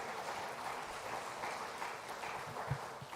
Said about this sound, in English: Ladies and gentlemen, I think Mr. Krishnan deserves a big round of applause